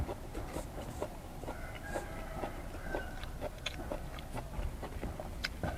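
Someone chews glass noodle salad close to the mic, a quiet run of soft wet bites and mastication with faint crunches, no talking.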